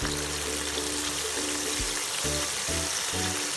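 Steady, close sizzling of gluten-free crispy chicken frying in hot oil, a continuous crackling hiss with low clinks underneath.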